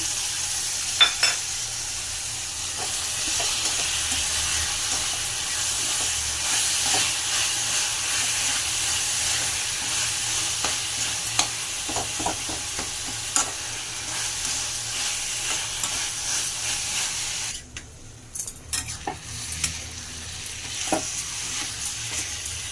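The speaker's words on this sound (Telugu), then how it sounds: "టమాటా వేసిన కలిపెట్టుకోవాలి ఫ్రెండ్స్" Tomatoes fry in a pan for a Telugu greens curry while a spoon stirs them, giving a steady close sizzle with scattered scraping clicks. The sizzle quiets near the end.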